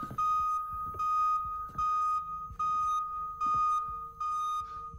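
A fire alarm in a horror video game sounds in loud, repeating electronic bursts, each about three quarters of a second, with brief gaps and faint thuds underneath.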